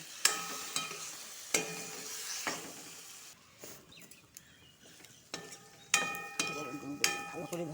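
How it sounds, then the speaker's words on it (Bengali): Chili paste, onion paste and tomato paste fry together in a pan for a soybean dish, with a soft steady sizzle broken by sharp scraping clanks as the mixture is stirred. "মরিচ বাটা আর একটু পেঁয়াজ বাটা আর টমেটো পেস্ট আমাদেরকে আগেই উপকরণগুলো দেখানো হয়েছে আবার বলে দিচ্ছি এটার সাথে আবার একটু ভালো করে ভেজে নিব"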